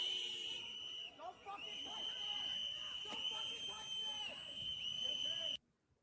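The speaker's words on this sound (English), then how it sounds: "the whistles are so annoying" Protesters' whistles shrill steadily and loudly through a crowded street protest in Minnesota, a constant piercing tone layered with overlapping shorter whistle blasts and crowd noise, ending in sudden near-silence.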